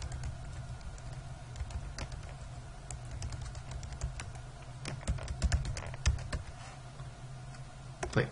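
Typing on a computer keyboard in quick irregular bursts of light clicks, close up over a steady background hum, ending in a few firmer keystrokes.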